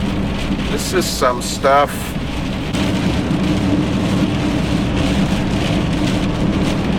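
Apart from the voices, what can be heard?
heavy rain storm in the Arctic, Lofoten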